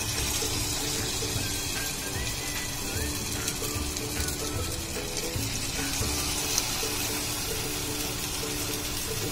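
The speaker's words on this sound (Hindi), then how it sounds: "तेल हो चुका है हमारा गरम। इसको चेक करने के लिए और ऊपर से एक कर के देखते हैं एक पीस।" Chicken pieces for Schezwan chilli chicken fry in hot oil at home, a steady broadband sizzle and bubbling hiss that holds evenly throughout, close and fairly loud, with no talk over it.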